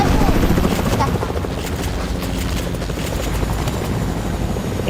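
A helicopter in a video game roars with a loud, steady rotor chop and engine drone throughout, close and dominant, with faint game sounds underneath.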